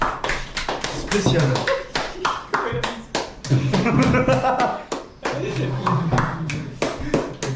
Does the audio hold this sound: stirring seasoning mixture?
no